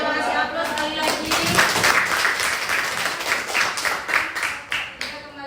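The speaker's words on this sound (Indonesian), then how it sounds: "Kita kasih aplaus sekali lagi" An audience applauding in a classroom teaching session, a few seconds of dense, lively clapping from many hands that tapers slightly toward the end.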